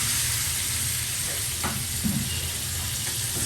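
Crab fries in a pan for a street-food crab bhuna, giving a dense, continuous sizzle and hiss with a few light stirring clinks, close and loud throughout.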